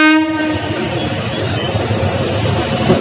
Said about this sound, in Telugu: వావ్ గూడ్స్ ట్రైన్ వచ్చింది.